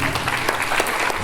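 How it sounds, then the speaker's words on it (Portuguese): An audience claps steadily through a talk session at an exhibition of Indigenous peoples' material and symbolic culture, dense and continuous applause with a few sharper claps rising above the wash. "uma salva de palmas aí"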